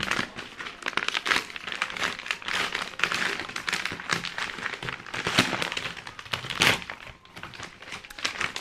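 Packaging of a book parcel from a publisher, not a box, being unwrapped close up, with loud irregular crinkling and rustling bursts of crumpling material throughout.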